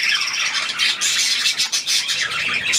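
Harsh, raspy squawks from a green rooster repeat in quick bursts, loud and close, with a steady rough screech carrying through the whole stretch.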